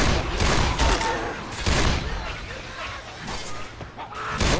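Gunfire from the zombie shooter game Left 4 Dead 2, with loud bursts of shots in repeated clusters over a dense, chaotic soundscape, while players talk over the action.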